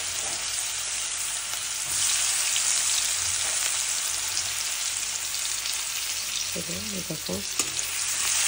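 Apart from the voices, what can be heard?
onions frying in a wok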